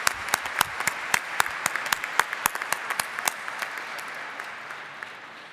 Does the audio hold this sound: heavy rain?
no